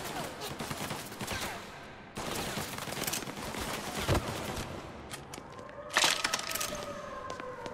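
Gunfire in the video game Mafia Definitive Edition, with dense bursts of shots and cracking impacts running almost throughout and a louder burst near the end, alongside busy game noise.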